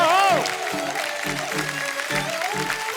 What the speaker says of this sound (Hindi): और जोरदार तालियों से स्वागत कीजिए डीएसपी साहब का।